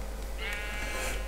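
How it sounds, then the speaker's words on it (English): Minecraft sheep bleating in a video game, one drawn-out nasal bleat rising over a steady low background hum, clear and close with no talk. "About the sheep."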